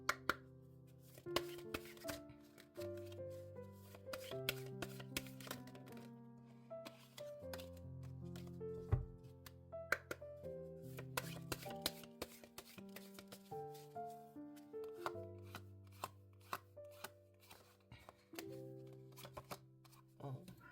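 Oracle cards are shuffled for a tarot reading, a close, quiet series of crisp riffling slaps and taps in irregular bursts over soft background music.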